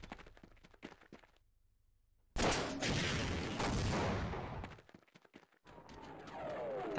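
Heavy gunfire in Half-Life erupts suddenly after a quieter lead-in of scattered shots, holding as a loud sustained barrage for a couple of seconds before dropping back to intermittent bursts.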